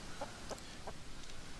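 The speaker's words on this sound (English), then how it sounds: "Oh, there's chickens here." Chickens cluck in a chicken coop in Hollow Cocoon, a horror game set in 1980s Japan: a few short, faint clucks spaced across the moment over a low ambient background, with no talking.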